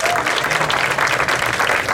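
A crowd at an outdoor fountain event in Rochester claps loudly for the horses, a dense, even round of applause with a murmur of voices underneath, close and sustained throughout.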